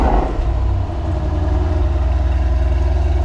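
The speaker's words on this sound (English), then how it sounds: "we're going to do an emotion start on this GT63S" A Mercedes-AMG GT63S on its factory exhaust, fired up with the emotion start at raised revs, gives a loud, close, steady deep engine rumble that holds without dropping.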